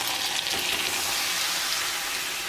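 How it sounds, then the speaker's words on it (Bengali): Soaked ground spice paste sizzles in hot oil while being stirred for a fish-head moong dal, a constant close frying hiss with faint scraping and no speech. "দিয়ে মশলাটা ভালো করে কষিয়ে নেব"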